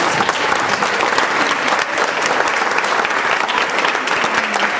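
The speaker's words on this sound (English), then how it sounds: "everybody, big round of applause for Mr. Frank Kincaid." Audience applause at the Disaster show at Universal Studios Orlando, a dense, steady wash of clapping from a large crowd, loud and close, filling the whole stretch without a break.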